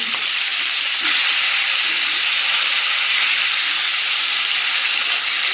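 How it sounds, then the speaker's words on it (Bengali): Fish frying in a pan, giving a steady, close sizzle and hiss with no talk over it. "মাছটা ভাজা হয়ে গেছে, দেখছি উল্টে দেবো।"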